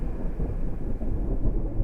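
Deafening thunder as a sound effect, a low heavy rumble that rolls on steadily and alone for a couple of seconds.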